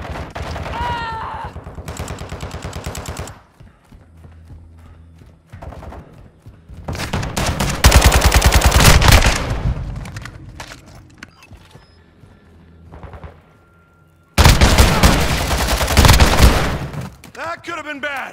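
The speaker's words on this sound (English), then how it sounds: "Taking effective fire!" Bursts of automatic gunfire from a Call of Duty Modern Warfare 2 online team deathmatch, loud rattling volleys in three stretches separated by quieter gaps, with a voice speaking briefly near the start.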